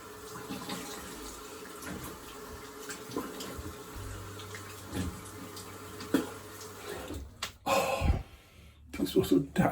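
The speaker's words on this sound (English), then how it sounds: "I'm going to do quick rinse" A razor rinsed under a running tap, steady water flow with splashing that grows louder and choppier toward the end, a voice talking over it.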